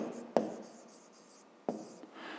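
Handwriting during a fifth-grade maths exercise: two sharp taps of a pen or chalk striking the surface, each followed by quiet scratching strokes, close and alone without speech.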